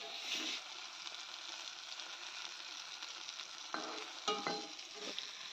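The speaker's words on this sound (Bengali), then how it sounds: "এখানে বেগুন ভাজা করছি।" Eggplant slices frying in a pan in a home kitchen, a soft continuous sizzle with a few clinks and scrapes of a utensil near the end, quiet and without talk.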